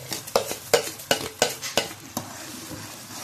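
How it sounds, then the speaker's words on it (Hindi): Semolina being stirred into hot sugar syrup in a pan for a sweet: a run of quick, regular scraping strokes of a spoon against metal over a soft sizzle, then easing off. "और हम इसमें सूजी ऐड करेंगे। इसमें साथ हम इसको मिक्स करते जाएंगे"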